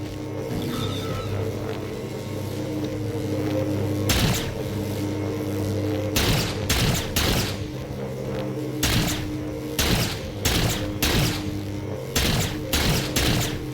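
A three-barrel machine gun fires in bursts in Halo 4, loud rapid volleys breaking over a steady game hum, with heavier repeated salvos toward the end.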